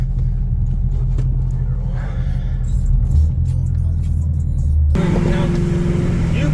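Steady low rumble from the engine of an LT4-swapped C7 Corvette Z51, heard from inside the car on the street: a continuous deep drone that shifts in pitch partway through, loud and close, with people talking over it.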